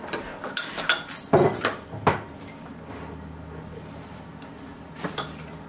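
Elmer's color slime gets stirred in a bowl, a quick run of clinking utensil-on-bowl knocks at the start, then a quieter stretch and a couple more taps near the end.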